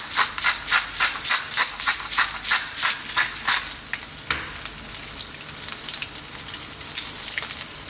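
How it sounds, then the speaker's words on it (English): Eggplant pieces fry in a pan over above-medium heat with salt and pepper, giving a steady sizzle broken at first by a quick run of rhythmic rattling stirs, then settling into an even hiss. "on a kind of above medium heat, let's just fry these around, turning them over every now and then"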